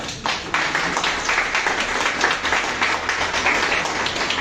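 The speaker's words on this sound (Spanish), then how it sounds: "Denle un aplauso al Señor" A church congregation applauding during a sermon, a dense, fairly loud patter of many clapping hands that starts abruptly and holds steady to the end, with no one speaking.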